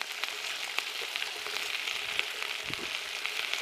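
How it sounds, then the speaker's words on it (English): Garlic and meat juices sizzle in a cast iron pan over an Australian campfire, a steady crackling hiss with scattered pops, moderately close and continuous with no talking. "All the garlic and all the juices are starting to caramelise."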